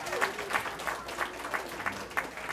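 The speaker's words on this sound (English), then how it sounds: "Give them a round of applause." Audience at a Newark watershed science and leadership awards ceremony claps for parents and guardians. Many hands join in a rhythmic, pulsing round of about three beats per second, close and moderately loud, with faint voices underneath.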